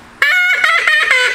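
A duck call is blown loudly by a hunter, producing a series of bright, harsh quacking notes, about three or four in quick succession, close and forceful with no talk.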